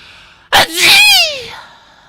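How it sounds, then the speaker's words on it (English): A single loud, close sneeze from a person, a sharp burst followed by a sustained voiced exhalation, against quiet room background. "now I am sneezing my nose out"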